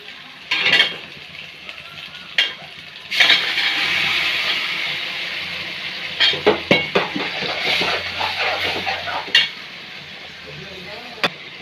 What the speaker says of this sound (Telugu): ఇవన్నీ ముక్కలు వేగుతున్నాయి.